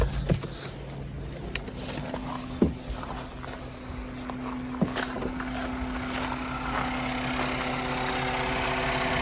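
A warmed-up Renault Kadjar petrol engine idles steadily with a low, even hum and a faint mechanical tick, running alone without voices.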